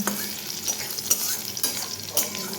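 Garlic and green chilies tempering in hot oil crackle and sizzle steadily up close, broken by several sharp stirring scrapes, with no talking.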